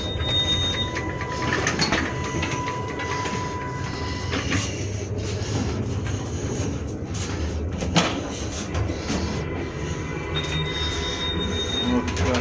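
A new 2020 Russian Railways third-class sleeper passenger train runs with steady loud rumble and rattle, thin metallic wheel squeals rising in and out and an occasional clunk from the carriage.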